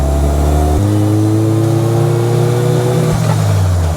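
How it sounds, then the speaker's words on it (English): A car fitted with a power steering conversion kit accelerates on a road test, engine drone climbing in pitch, dropping sharply at a gear change, then rising again, loud and close from inside the cabin. "So now I'm kind of going up through the gears, just getting some speed"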